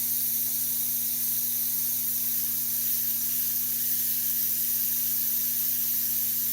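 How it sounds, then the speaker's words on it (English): An airbrush sprays Createx Illustration Colors onto a red Corvette Stingray, a steady, even hiss with a constant hum beneath it and no talking. "Spraying kind of far away."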